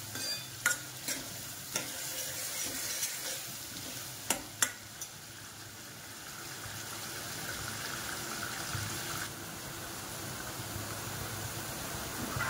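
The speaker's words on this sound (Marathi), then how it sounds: "छान असा कांदा जरा ब्राऊन होईपर्यंत परतणार आहे" Onion frying for pav bhaji, stirred in a pan until browned: a quiet, continuous sizzle and hiss, with a few clustered spatula scrapes and knocks early on, then steadier frying alone.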